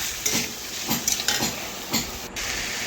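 Banana stem curry seasoned with cumin gets stirred in a pan with a steady faint sizzle, while four or five soft scraping strokes of the spoon come at irregular intervals and no one speaks.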